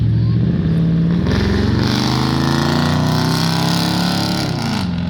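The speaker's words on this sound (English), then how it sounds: "that's just an SUV that's been modified with a loud exhaust" A modified SUV with a loud aftermarket exhaust drives past in the evening, a steady rumbling engine drone that rises and falls in pitch, loud and fairly close throughout.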